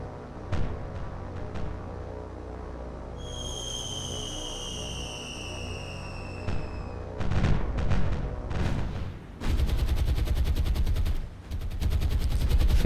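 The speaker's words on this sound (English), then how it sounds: "Fierce anti-aircraft fire being put into the sky" Anti-aircraft fire from a World War II naval warship in War on the Sea starts as scattered distant shots under a high whistling tone, then breaks into loud, rapid sustained bursts of cannon fire.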